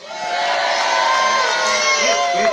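A crowd of children and adults at a London Zoo penguin show cheer loudly on cue, a dense burst of shouts and whoops that rises and holds throughout.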